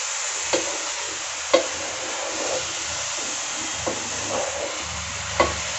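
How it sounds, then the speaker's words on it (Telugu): Grated coconut for coconut laddu stirred and fried in a pan over a low flame: a steady close sizzle with a few sharp spoon knocks against the pan at irregular intervals. "కొబ్బరి పచ్చివాసన పోయేంత వరకు బాగా వేపుకోవాలి ఇదంతా."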